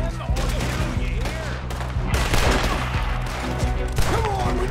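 Gunfire in the Western video game Red Dead Redemption 2 crackles in a dense, continuous volley of overlapping shots during a shootout, loud and steady throughout with game sounds layered in.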